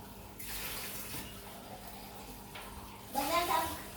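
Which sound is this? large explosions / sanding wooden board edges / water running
water running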